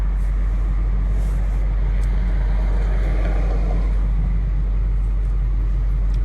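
A 2008 Ford F450 King Ranch dually with a 6.4L diesel cruises along, its engine and road noise a steady, loud low rumble with no talking.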